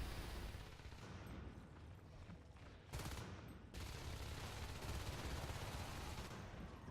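Gunfire rattles throughout a competitive video game match, fairly faint, with dense volleys and rapid bursts, one sharper burst standing out midway, over a steady background din.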